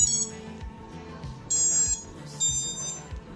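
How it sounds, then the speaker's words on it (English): iFlight Titan XL5 FPV drone motors chiming with short electronic beep tones when the battery is plugged in, several tonal bursts in a quick sequence, close and clear. "motors beeped as it's supposed to"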